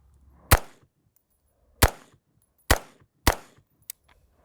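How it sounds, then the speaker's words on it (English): A budget Smith & Wesson M&P 15 Sport II AR-15 rifle fires at a target: four loud, sharp shots at uneven intervals, followed by a much fainter fifth crack. "So just shooting the budget AR."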